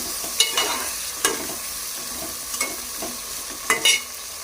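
Green and dried chillies are stirred into a pan of Parshe fish curry, with a steady oil sizzle broken by several scraping spoon strokes, close and fairly loud, without speech.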